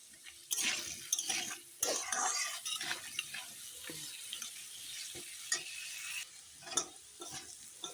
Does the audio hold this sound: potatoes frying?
yes